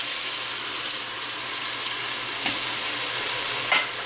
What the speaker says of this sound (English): And now we're just going to stir it